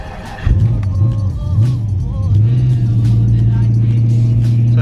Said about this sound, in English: that's what you get with a carbureted car. Sometimes it doesn't always stay running.